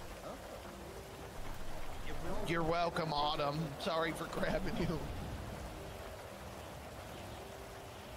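Steady rain falls in a GTA NoPixel roleplay game, a soft constant hiss running through the clip while a voice talks over it in the middle.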